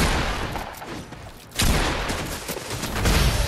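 Automatic gunfire in Fortnite, a dense sustained burst of rapid shots that drops briefly and then returns louder and closer, continuing to the end with no talk over it.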